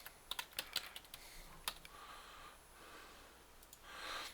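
Quick, close clicks of typing on a computer keyboard, starting as a short burst and then turning sparse and hesitant, with soft breathing and faint shuffling sounds between the keystrokes.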